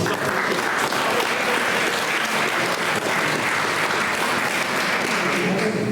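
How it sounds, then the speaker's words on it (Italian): Audience applause for two poets at a Sardinian poetry competition, loud continuous clapping from a packed room that holds steady without a break for several seconds. "quindi un applauso a tutti e due."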